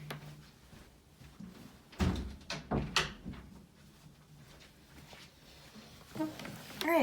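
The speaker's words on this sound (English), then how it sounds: "Let me close my door." A door is pushed shut in a room, giving a few close knocks and clacks from handling and latching, with a short rattle near the end against a quiet background.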